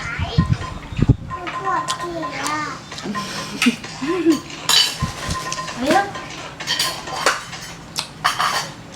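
Knife chopping ingredients in a Thai kitchen for spicy jaew dip, with clinks of cutlery and pots, under steady talk from several people.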